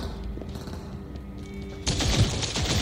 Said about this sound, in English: What are these rapid fire gunshots coming from?